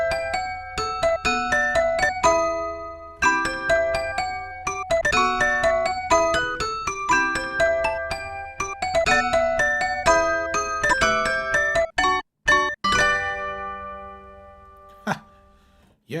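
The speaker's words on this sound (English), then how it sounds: "It's toy piano, Mickelson basic." Toy piano preset, Mickelson basic, on the GForce M-Tron Pro IV plays a bright, tinkly riff of quick plinking notes and chords, dry and close, ending with a few scattered isolated notes.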